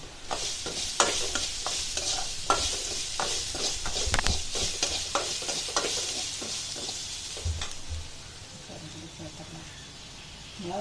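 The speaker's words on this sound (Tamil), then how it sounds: "இதை கொஞ்ச நேரம் வதக்கினா போதும்." Mixed vegetables for a pulao sizzle and sauté in a pan while a spoon stirs and scrapes them in repeated strokes, close and steady, and a voice talks quietly underneath.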